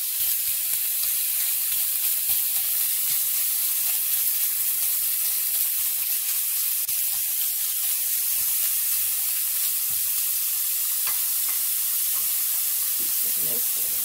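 Pork for an egg roll stir fry frying in a pan with a loud, constant, hissing sizzle that runs unbroken throughout, close up and with no talking.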